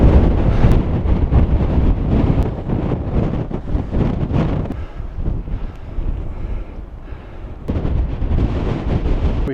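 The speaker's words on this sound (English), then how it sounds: "It's just gusting through here." Strong wind gusting on the slopes of Cotopaxi volcano, loud roaring buffets battering the microphone in surges that ease briefly near the middle and build again, with no voices.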